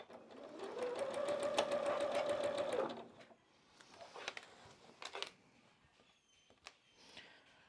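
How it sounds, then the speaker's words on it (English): Sewing machine running a continuous seam along one side of a sunflower quilt for about three seconds, rapid even stitching up close, then scattered clicks and fabric handling. "let's go ahead and sew this one side"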